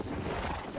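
Horse hooves clip-clopping in the video game Battlefield 1, a steady, dense run of hoofbeats heard up close, loud and continuous throughout the short stretch.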